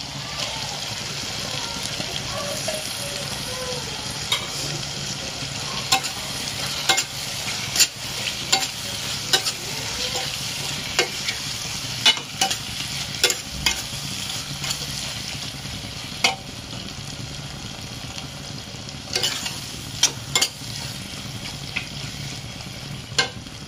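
Six eggs frying in green masala, a continuous sizzle with repeated stirring and spoon scrapes clicking at irregular intervals across a long stretch.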